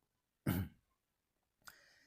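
A sharp, close cough bursts out, followed after a pause by a rougher throat clearing that trails off, with quiet in between.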